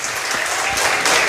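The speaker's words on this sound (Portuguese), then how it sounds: "Aplauda Jesus pelos nossos visitantes" A church congregation claps for visiting guests, a dense burst of applause that carries on steadily throughout the short moment, with no voices above it.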